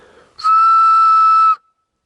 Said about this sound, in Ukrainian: Ось так свистить гільза.